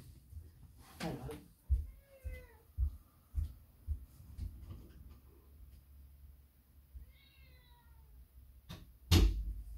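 A cat meows several times to be let outside, rising calls mixed with knocks and thumps like a door or cupboard, and a sharp bang near the end.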